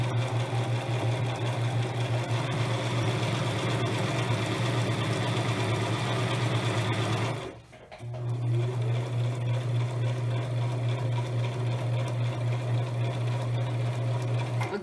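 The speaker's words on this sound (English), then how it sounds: "continue to stitch down to secure the fabric" A sewing machine stitches down fabric for reversible napkins, a steady, loud mechanical whir that stops briefly midway, then resumes running alone.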